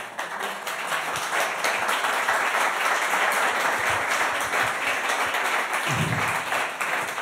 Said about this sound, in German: ihr klatscht jetzt schon